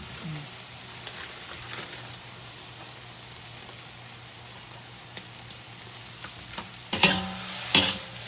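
Indonesian mie goreng noodles stir-fried in a pan, with a steady close sizzle and louder scraping, tossing bursts toward the end.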